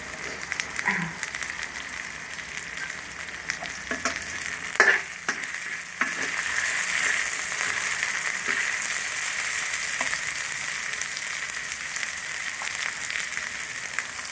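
Chili stir-fries in oil left over from frying eggs, with a steady close hiss and crackle that grows fuller after a few seconds and a few scraping stirs near the start.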